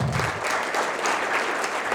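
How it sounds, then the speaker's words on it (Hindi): A large audience at a content creators' event bursts into loud, dense applause, an even, continuous clatter of many hands that holds steady for the whole stretch. "इसके लिए जोरदार तालियां हैं"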